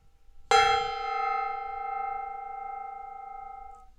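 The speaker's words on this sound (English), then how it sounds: "It's time for me to bang this gong, this decorative gong that my roommate left when he moved out" A decorative gong is struck once, ringing out loud and close with a bright, sustained shimmering tone that slowly decays over several seconds.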